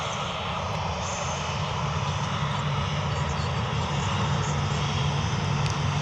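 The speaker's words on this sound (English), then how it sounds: "The Ryanair that's just landed, that's going to come past us here now." Ryanair airliner rolling past after landing at Manchester Airport, a loud, steady engine roar and whine sustained nearby for the whole stretch with no talking.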